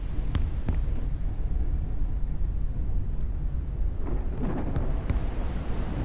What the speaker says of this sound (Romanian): Vine furtuna.